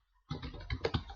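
Rapid typing on a computer keyboard, a burst of close, crisp key clicks with a few louder strikes, starting after a short silence, with no voices.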